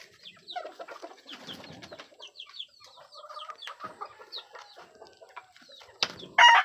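Chickens and a rooster cluck in short scattered calls close by on a farm, with a louder burst of clucking at the very end.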